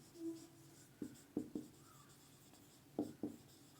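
A teacher writes on a board during a physics class. Several short, faint scratching strokes come in two small clusters over a quiet room.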